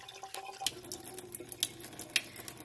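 Water splashes and drips into a thin cooking pot holding rice, with irregular bright plinks and splashes over a low running trickle, close and fairly quiet.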